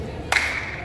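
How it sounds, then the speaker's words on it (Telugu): A single hand clap at Golkonda Fort, a sharp crack followed by a lingering ringing tail that carries on faintly through the rest of the moment. "మళ్ళీ క్లాప్ సౌండ్ వస్తుంది"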